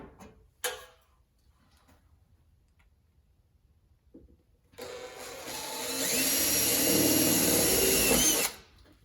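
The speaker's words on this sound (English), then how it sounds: "and drill it." A power drill bores into a Porsche 911 body panel during rust repair, first a brief sharp tap, then a loud, steady whirring drill run of about four seconds that rises and cuts off abruptly, close by with no talking.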